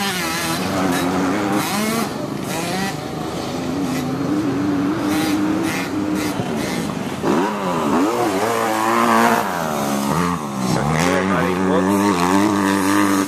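A 50cc motocross bike engine revs and buzzes steadily on a practice track, rising and falling in pitch as it accelerates, close and loud, with a coach's voice talking over it throughout.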